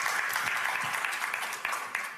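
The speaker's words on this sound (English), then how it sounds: "Give them a round of applause." Steady audience applause, a dense even wash of clapping from a crowd with faint voices mixed in.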